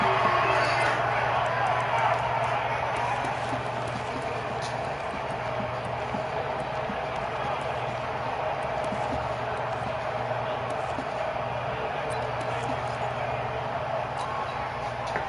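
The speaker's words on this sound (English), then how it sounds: "Listen to this crowd now." A large stadium crowd in an American football video game roars in a steady, distant wash of noise that slowly fades slightly, with a voice talking over it.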